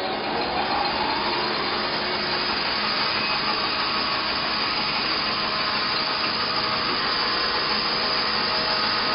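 A sawmill resaw blade runs and cuts wood, a loud, steady, continuous whine and roar of machinery with no talk.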